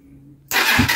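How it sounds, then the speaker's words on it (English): A 125cc Sinnis Heist hardtail chopper motorcycle with a rebuilt carburettor fires up: a faint hum at first, then a sudden loud burst of engine noise as it catches, close by. "Right, let's see if we can get this started. Ignition, start button."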